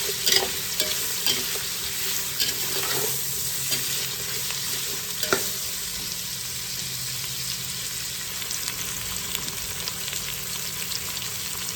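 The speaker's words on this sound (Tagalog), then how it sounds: "Lutuin muna natin yan kunti. Ang ating taugi." Bean sprouts (taugi) stir-frying in a pan, a steady close sizzle with a few sharp clicks of a utensil against the pan near the start, no voices heard.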